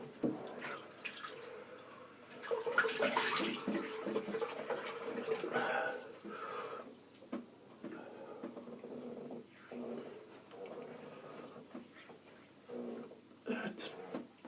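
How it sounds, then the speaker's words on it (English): Running water splashes as someone rinses their face at a sink after a shave with a Gillette Fusion razor, the irregular splashing close and moderate with brief louder surges, no talking. "I'll just rinse my face"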